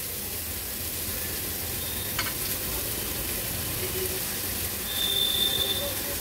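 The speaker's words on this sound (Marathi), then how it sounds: "आता हा किसलेला भोपळा आहे ना, हा आपण थोडा थोडा करून ह्या कढईत ऍड करूया।" Grated pumpkin sizzles softly as it goes into a hot wok with turmeric, a steady low frying hiss throughout, with a faint clink midway and no talking.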